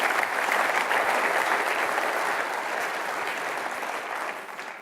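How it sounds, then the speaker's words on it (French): An audience at an economic and social conference keynote applauds two guest speakers, producing dense, steady clapping that slowly fades toward the end. "Applaudissements pour eux."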